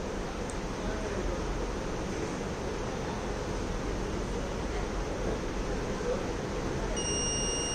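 A thin, steady electronic buzzer tone from a battery management system's temperature alert switches on near the end, faint beneath a constant loud hiss of background noise.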